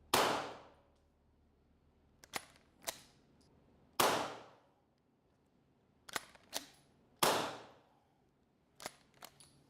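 A suppressed 3D-printed pistol fires three sharp, fairly loud reports at roughly even intervals, each followed a moment later by metallic clacks and clicks from the slide being worked.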